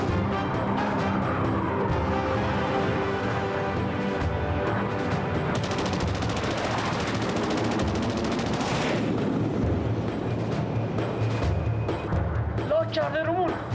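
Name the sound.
gunfire in an Iranian film action scene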